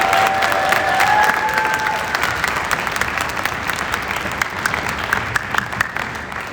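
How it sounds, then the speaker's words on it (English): Sustained applause from a large audience at a high school honor band concert, a thick wash of clapping with a few shouts and whistles early on, gradually thinning but continuing throughout. "Let's give them a round of applause."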